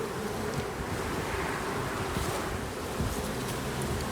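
Honeybees swarm in a dense, continuous buzz close around an opened spring hive, a steady hum with no voices.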